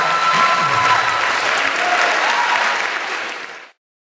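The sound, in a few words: audience applause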